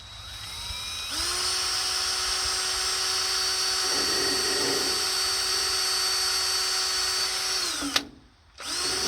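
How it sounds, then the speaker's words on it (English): A high-pitched power drill whines steadily for several seconds, dipping briefly in the middle as it bites into thick plastic on a vehicle, then winds down and stops abruptly. "So let's drill a hole in this thing."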